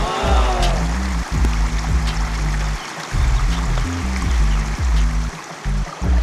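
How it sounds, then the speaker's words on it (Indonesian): A swift river current rushes steadily along the Code river, with a low boat engine drone running underneath the continuous wash of water; no speech. "Pada bagian ini, aliran menjadi semakin deras."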